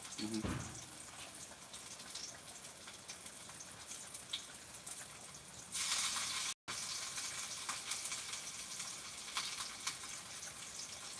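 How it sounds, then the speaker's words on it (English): Fermented food fries in a pan with a steady, soft sizzle and crackle, nearby and fairly quiet, briefly swelling louder before settling back. "But I'm just going to fry a little bit."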